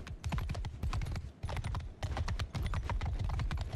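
Horse hooves gallop in a rapid, continuous clip-clop rhythm in the Mount & Blade II: Bannerlord video game, loud and close, with a brief dip midway before resuming.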